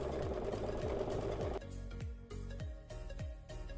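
Sewing machine running steadily to stitch a quilt block using the stitch-and-flip method, a continuous close mechanical whir with rhythmic needle chatter that eases to lighter, spaced pulses partway through.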